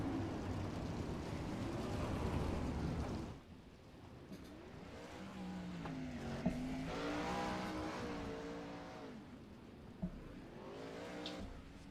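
Dirt sprint cars race at Eldora, with a loud roaring engine pack for the first few seconds, then a single car's engine revving and rising and falling in pitch through the corners, sliding on the dirt, nearby and steady.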